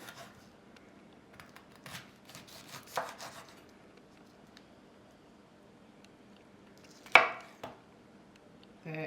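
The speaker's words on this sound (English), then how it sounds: "we're gonna circle back and do a pineapple slice for a little garnish" A knife slicing pineapple for garnish on a cutting board, with soft scattered cuts and scraping followed by one louder firm chop near the end.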